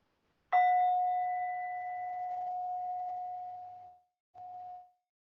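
A single mindfulness bell is struck once and rings out in a clear, sustained tone that slowly fades over about three seconds, then sounds again briefly and softly, with no voices.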